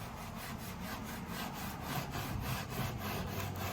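Coarse 60-grit sandpaper scrubs across an oak sideboard in steady back-and-forth strokes, a close, even rasping rhythm with no voices.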